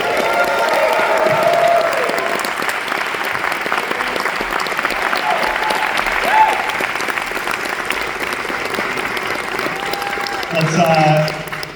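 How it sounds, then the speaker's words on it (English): Theater audience applauds with some cheering at a live cast reunion Q&A for the film Cabin Fever, a sustained dense wash of clapping that swells near the end. "Let's give a round of applause here for the writer, producer,"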